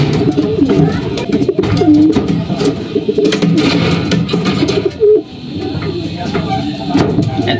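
Racing pigeons coo repeatedly at close range during club training, soft rolling calls mixed with wing flutters and handling noises, with occasional background voices.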